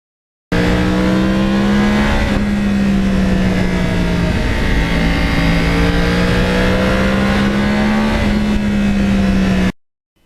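A Yamaha R1 crossplane motorcycle riding country back roads, its engine droning loud and close with a steady hum that rises and dips through gear changes and throttle shifts, buffeted by wind, no voices.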